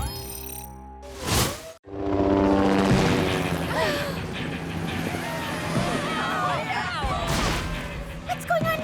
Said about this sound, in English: what's up with those news choppers?